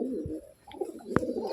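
A male pigeon with a striking eye patch coos softly and close by, a low murmuring call with a brief sharper rustle partway through, among other pigeons offered for sale.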